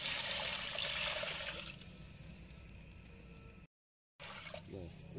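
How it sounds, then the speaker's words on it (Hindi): Water pours into a large cooking pot for about 1.5 kilograms of rice, a steady gushing splash for several seconds that thins to a lighter trickle, then a brief silence and some clinking. "3 किलो के करीब पानी डलेगा इसमें।"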